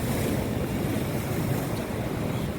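Sea waves surge and crash hard at a fishing port in India, a loud, continuous roar of surf mixed with wind buffeting the microphone, with no voices.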